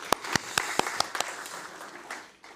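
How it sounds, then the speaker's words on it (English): Audience applause at a welcome event at ACMI in Melbourne, a short burst of scattered, distinct claps that thins out and fades within a few seconds. "a round of applause for Candice"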